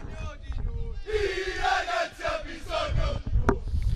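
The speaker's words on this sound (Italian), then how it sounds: "I tifosi davvero incitano la squadra." Football supporters of a local amateur side chant and cheer in rhythmic bursts, a dense crowd roar with raised voices and shouted calls rising and falling over several seconds.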